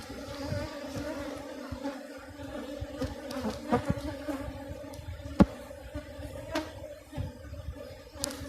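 Honey bees from a strong, open hive full of capped honey and pollen hum in a steady, dense drone that runs throughout, close by, with a few soft knocks and taps over it.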